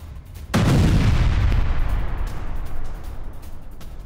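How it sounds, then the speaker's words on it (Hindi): A large explosion engulfs an IDF Merkava tank after a Hamas fighter plants a charge on it, a sudden heavy boom followed by a long rumbling roar that slowly fades. "ये देखिए जो मरकावा टैंक है वो एक्सप्लोड करके खत्म हो गया"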